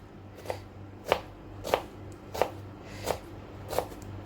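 A knife chops beetroot into small squares on a board, six evenly spaced crisp chops about two-thirds of a second apart, close and clear over a faint background hum.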